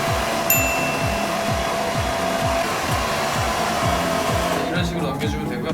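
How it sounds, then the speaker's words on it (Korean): A hair dryer blows steadily and loudly up close, with a pulsing rhythmic undertone, then eases off briefly near the end. "이제 이 상태에서 다시 드라이기를 사용해서 확실하게 꼬리를 넘겨줍니다."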